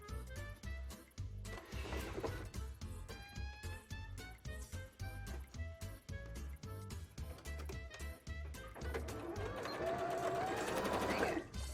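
A sewing machine stitches an Alien Isolation themed bra, its busy mechanical chatter running in steady bursts with brief pauses, growing denser and louder toward the end.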